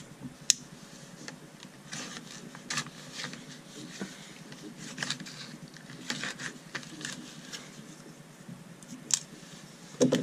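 Someone unboxes a package of Fiskars safety-edge scissors. Plastic and cardboard rustle and crinkle steadily, with scattered sharp clicks and ticks close by and no talking.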